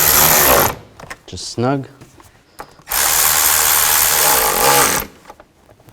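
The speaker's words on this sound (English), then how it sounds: "And just tighten the worm clamp down," A power tool whirs loudly in two sustained bursts while tightening a worm clamp on the intake hose of a 2000-2006 Chevy Tahoe, with someone speaking briefly between them.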